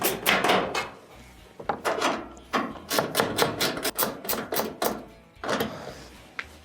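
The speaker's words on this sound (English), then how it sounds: "Let's switch over our ratchet, tighten them up." A ratchet tightens the screws on a dryer panel in quick bursts of sharp clicking, several close clicks per pass, with short pauses between them.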